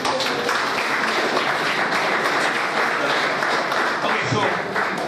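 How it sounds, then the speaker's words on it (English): Audience applause in a college classroom or lecture hall, a dense, steady wash of many hands clapping at even loudness for the whole stretch, with a voice briefly heard underneath. "Let's give him one round of applause."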